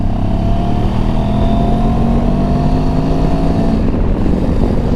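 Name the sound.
Benelli TRK 702X motorcycle riding, going up through gears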